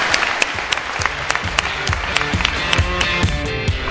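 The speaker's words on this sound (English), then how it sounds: "one final round of applause for Katharine" An audience applauds Katharine Hayhoe at the close of a climate change talk, a dense burst of clapping from many hands that continues steadily for a few seconds.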